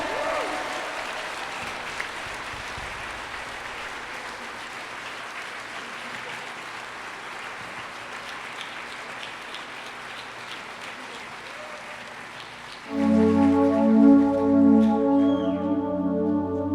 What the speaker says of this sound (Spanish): Dale ese aplauso más fuerte a Él.